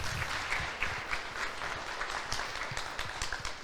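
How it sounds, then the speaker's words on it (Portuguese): A church congregation applauds, producing a continuous, moderately loud patter of many hands clapping with steady texture and no speech over it. "Aplauda o Senhor por isso."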